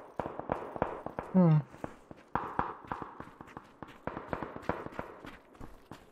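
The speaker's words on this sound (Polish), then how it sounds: "Tak, strzelają się tam." Gunfire in the battle royale game PUBG: a long run of sharp, evenly spaced shots cracking in quick succession, with a brief hummed voice near the start.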